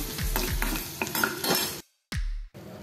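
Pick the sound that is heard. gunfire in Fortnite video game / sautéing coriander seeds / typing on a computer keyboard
sautéing coriander seeds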